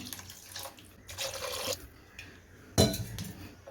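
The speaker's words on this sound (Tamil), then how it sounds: "இந்த கறி வேகிறதுக்கு தேவையான அளவு நம்ம தண்ணி சேர்த்துக்கலாம்." Water is poured into a pot of beef chukka curry on the stove, with splashing bursts and metallic clinks of the pot and utensils, close and moderately loud, with no talking.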